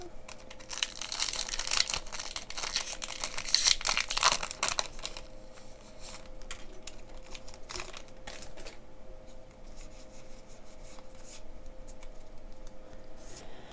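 A Pokemon Chilling Reign card pack wrapper is torn and crinkled open with loud foil rustling for the first few seconds, followed by quieter sporadic handling and crinkles.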